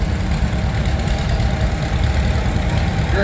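A 1937 unstyled John Deere tractor engine idles at a steam power show in Sycamore, Illinois, a steady low, loping throb that holds close and even with no talk over it.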